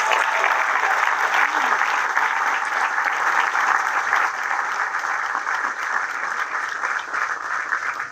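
A crowd at a military change of command ceremony gives a band a sustained, even round of applause, dense clapping continuing steadily throughout.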